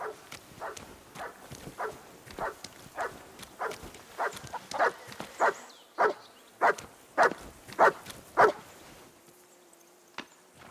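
A dog in Kingdom Come: Deliverance 2 gives a long run of short, evenly spaced barks and yelps, about one every half second, growing louder toward the end before a single faint yip.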